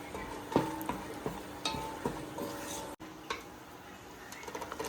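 Cashews frying in ghee in a pan on the stove, with faint crackling, soft ticks and occasional stirring or clinking of utensils, low and close with no talking.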